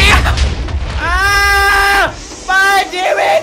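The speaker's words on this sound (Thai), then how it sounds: "ทีวีเกิลระเบิด" An explosion goes off in Minecraft at a built TV woman figure: a short, low boom at the start, followed by loud, drawn-out tonal bleating or wailing cries with a brief gap between them.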